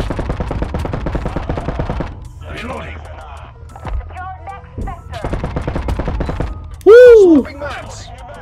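Rapid automatic gunfire rattles in the space shooter game Boundary, in loud sustained bursts broken by pauses, with electronic effects and a sweeping tone; a player shouts briefly.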